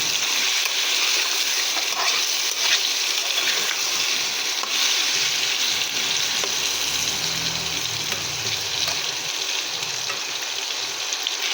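Taro and beef fry in a hot pan with chili powder, giving a steady, close, dense sizzle that holds throughout with light stirring scrapes and no talk.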